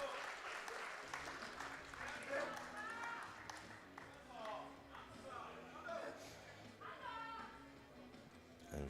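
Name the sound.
home crowd cheering at powerlifting championship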